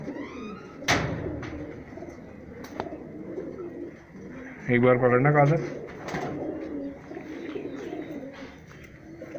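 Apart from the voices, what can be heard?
pure Teddy high flyer pigeons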